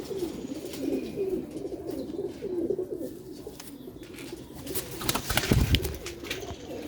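Rooftop-kept breeder pigeons about two to two and a half years old coo in repeated soft, throaty phrases nearby. A brief rustling thump comes near the end.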